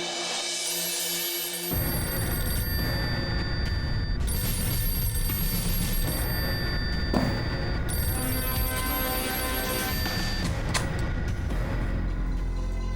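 A telephone rings in an indoor domestic scene, a steady ringing tone with dramatic background music running loudly underneath throughout.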